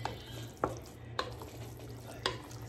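Beaten eggs being stirred by hand for turkey meatballs, a few soft wet clicks and scrapes against the bowl standing out over a low steady background hum, fairly quiet with no talk.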